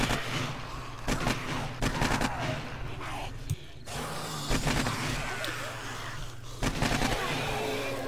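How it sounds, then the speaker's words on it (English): Rapid gunfire in the zombie survival game 7 Days to Die, played on PlayStation 4 during a day 49 horde night, with repeated shot bursts over a dense, busy game mix and a voice talking. "Keep shooting."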